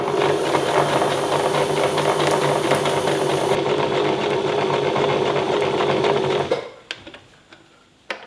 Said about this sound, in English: we just do a little reversing stitch to make sure it holds